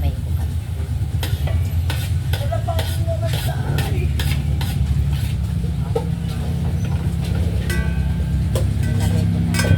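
Flaked tilapia fries in a pan of vegetables, giving a steady, close sizzle with scattered clinks and stirring scrapes throughout.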